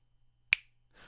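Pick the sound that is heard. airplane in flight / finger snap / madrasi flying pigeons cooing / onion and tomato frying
finger snap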